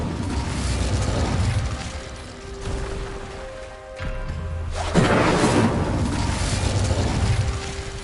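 Incendio fire spell cast in Hogwarts Legacy, a loud burst with a fiery whoosh and rumbling boom that flares up, dies back briefly, then erupts again and lingers.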